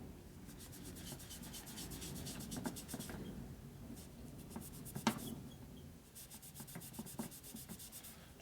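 A rag rubs and wipes brake cleaner off the engine of a 1961 Harley-Davidson FL 74ci panhead during a rebuild, a steady close scratchy scrubbing with a few sharper swipes and brief pauses.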